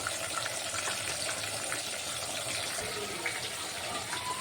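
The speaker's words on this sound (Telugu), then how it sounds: "అంబలి మరుగుతుంది" Ambali millet porridge bubbling in a pot with a dense, continuous watery hiss and gurgle, heard close and steady throughout.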